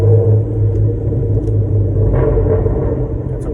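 A 2015 Chrysler 200S with a 3.6 V6 and straight-pipe exhaust, muffler and resonator deleted, rumbles deep and loud up close, its low drone swelling slightly with a light rev.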